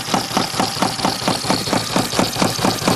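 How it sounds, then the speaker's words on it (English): A small robotics motor with gear reduction runs steadily nearby, giving a loud, even whirring hum broken by a quick rhythmic ticking pulse, several beats per second, with no talk. "Little robotics motor."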